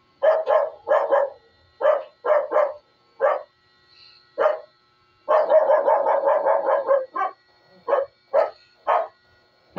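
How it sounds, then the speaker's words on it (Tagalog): A dog barks repeatedly nearby, loud sharp barks in short bursts and quick rapid runs with brief pauses between, no talking over them. "Ayun, naingay ng aso."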